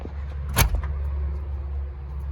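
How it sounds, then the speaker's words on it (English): Door of a 1971 Chevrolet Impala custom coupe with new weather seals shutting once, a single solid close thunk over a steady low engine idle, the LS1-swapped motor rumbling throughout. "This car shuts very nicely."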